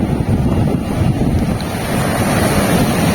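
Strong sea waves surge and crash continuously along a baywalk shore in Dagupan, loud and close, mixed with gusty wind buffeting the microphone, with no voices.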